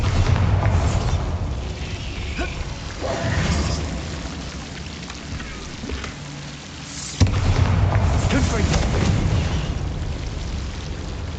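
Spell explosions from Bombarda and Confringo in the video game Hogwarts Legacy, a continuous loud rumbling wash of booms with a sharp burst near the middle, alone without talk.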